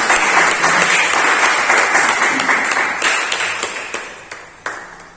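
Loud crowd applause at a formal gathering greets a woman named station chief, dense clapping that gradually thins and fades toward the end, with a few last isolated claps.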